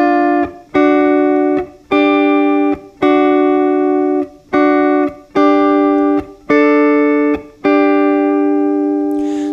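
Electric guitar playing double stops against a static note, with a steady, loud rhythm of sustained two-note strikes, each ringing briefly before the next, heard alone.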